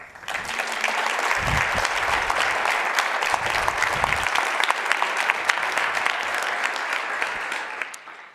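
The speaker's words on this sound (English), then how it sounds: "A big round of applause for Stéphanie Lacour" Audience applause for Stéphanie Lacour, an electronic-skin researcher, at a sustainability conference session: sustained, dense clapping from a large crowd that swells in and holds steady before tapering at the end.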